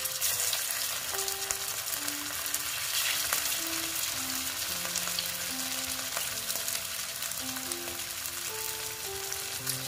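Ingredients for a potato and flattened rice (chira) breakfast dropped into hot oil, giving a steady loud sizzle that runs the whole time, with a soft melody of tones playing over it.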